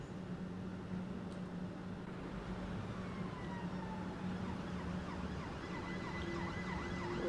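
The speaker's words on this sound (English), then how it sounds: "Okay, police sirens." Police sirens in a train simulator video game wail and yelp in the distance over a constant low engine drone, their rising-and-falling tones growing more layered toward the end.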